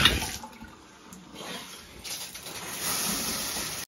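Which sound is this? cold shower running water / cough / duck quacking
cold shower running water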